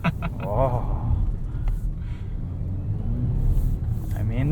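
2020 Volvo XC90 T6 R-Design engine rumbling and revving as it struggles for traction uphill, a low steady drone inside the cabin with people talking over it.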